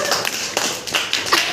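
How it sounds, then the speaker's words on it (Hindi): Primary school children clapping for a classmate at a class 5 farewell party, a few scattered, light claps in a small room, brief and uneven. "चलो उनके ताली बजाओ उनके लिए"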